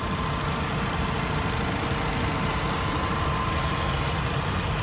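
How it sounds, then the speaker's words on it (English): A 1993 Mazda RX-7 engine idles quietly, giving a steady, even hum that holds at a constant level throughout with no voices. "So yeah, so the engine is just humming."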